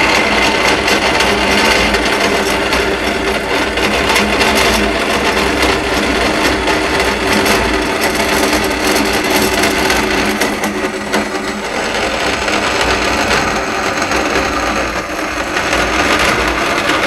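A steady, harsh rasping of metal being filed by hand on an EGR block off plate, continuous scraping strokes heard up close and loud with no voices.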